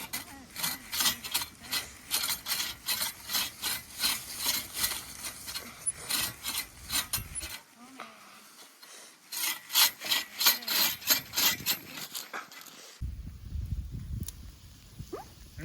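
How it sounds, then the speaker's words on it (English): Rhythmic back-and-forth strokes of a saw cutting wood, close and steady, pausing briefly before resuming at the same brisk pace. "He's sawing sideways."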